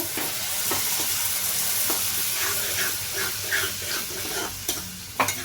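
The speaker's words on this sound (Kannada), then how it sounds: "ಇವಾಗ ಈ ಟೊಮ್ಯಾಟೊ ಪ್ಯೂರಿನ ಇದಕ್ಕೆ ಹಾಕೊಳ್ಳೋಣ." Tomato puree sizzling and frying in a pan for restaurant-style potato curry, stirred steadily with a spoon scraping through it, close and continuous hiss with a few sharper stirring knocks, no talking.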